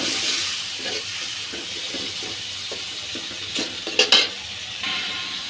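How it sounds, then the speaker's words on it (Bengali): Garlic and prawns frying in a pan, a soft steady sizzle with occasional stirring scrapes and a few brief louder clinks near the end, no voices. "রসুনটা একসাথে ভেজে নেব।"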